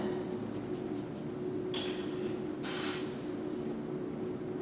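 Two short bursts of hairspray hiss onto teased hair over a steady low background hum, the first brief and the second a longer spray of about a third of a second.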